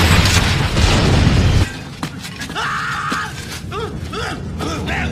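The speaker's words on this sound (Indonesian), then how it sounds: "dan meledakkan tempat tersebut" A building blown up in the 1994 film The Crow: a loud, dense blast with crashing debris fills the opening second and a half, then cuts to quieter sparse thuds, creaks and faint chirping tones.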